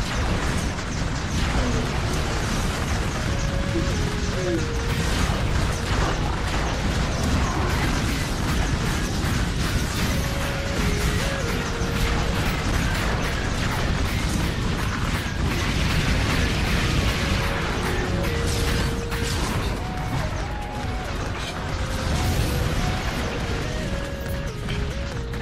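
Rapid, repeated cannon turret blasts and mechanical clatter from a battle in the video game Sanctum, dense and loud with barely a pause.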